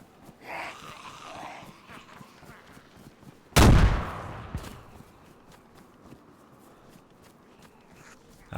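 A frag grenade goes off in DayZ, a single loud, sudden blast midway with a short decaying rumble, among faint footsteps and infected groans before and after.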